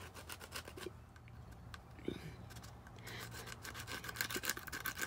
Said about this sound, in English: So you just scrape out the protective coating, use a sandpaper.